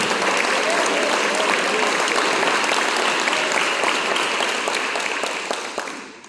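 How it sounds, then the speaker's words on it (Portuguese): Congregation at a church service applauding, a thick sustained wave of clapping that carries on steadily and then tapers off near the end. "Aplaudir a palavra de Deus,"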